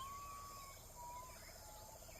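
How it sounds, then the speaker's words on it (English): Birds call faintly in the woods during a peaceful walk, a couple of thin whistled notes standing out over a quiet, steady background hiss of insects and air. "Do you hear the birds?"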